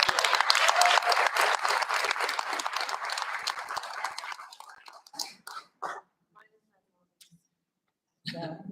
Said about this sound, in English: make sure you give the same amount of applause that you did in person